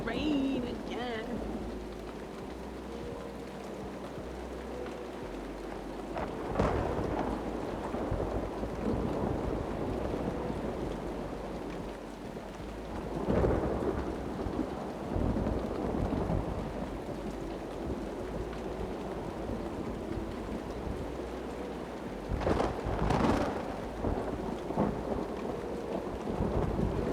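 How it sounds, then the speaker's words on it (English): Steady rain hisses throughout in Uru: Complete Chronicles, with low rumbling swells and a few brief louder bursts around the middle and near the end, a continuous wash of moderate loudness. "Here comes the rain again."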